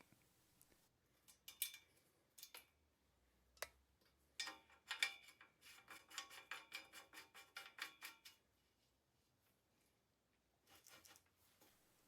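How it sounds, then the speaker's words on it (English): A lock nut being screwed onto the hub of a Trek 800 bicycle, heard as sparse metallic clicks and small scraping clatters in scattered bursts, close and fairly quiet, with no voices. "I replace the spacer and screw on the lock nut"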